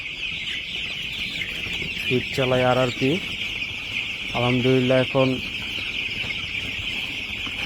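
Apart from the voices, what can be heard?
ten-day-old broiler chickens clucking in a farm shed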